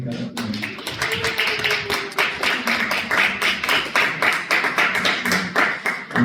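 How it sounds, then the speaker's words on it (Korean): A church youth congregation breaks into welcoming applause, a dense, steady patter of many hands clapping close by that carries on for several seconds with no talk over it. "우리 한번 환영의 박수 한번 부탁드릴까요?"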